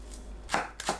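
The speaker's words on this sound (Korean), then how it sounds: "밑동 손질한 팽이버섯은 반 자릅니다" A kitchen knife halves enoki mushrooms on a cutting board, giving two quick, crisp, close chops in about a second.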